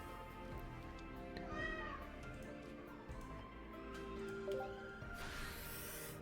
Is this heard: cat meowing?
yes